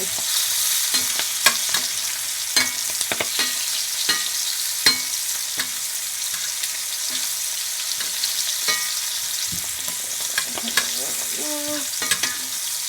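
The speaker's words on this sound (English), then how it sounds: "when I say baste the steak, this is what I mean" Steak sizzling steadily in a hot pan for a birthday steak dinner while being basted, a constant frying hiss with repeated scraping and spoon clinks at an irregular rhythm, close and alone with no talk.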